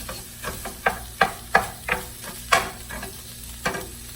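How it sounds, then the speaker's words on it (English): Irregular sharp pops and crackles from tomatoes frying in a pan as their skins burst, each burst separate, over a faint steady sizzle, close by. "You can hear the tomatoes, they're kind of popping the skin."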